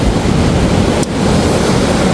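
Rough East Sea surf breaking along the Korean coast in stormy weather, a loud continuous roar of crashing waves mixed with gusty wind buffeting the microphone.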